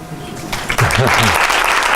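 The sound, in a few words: audience round of applause after presentation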